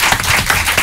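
Studio audience applauding a young singer on a French radio show, a brief, dense burst of clapping that fills the moment at steady loudness with no voice over it.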